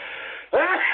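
A single close, sudden sneeze bursts out after a brief voiced breath, sharp and noisy.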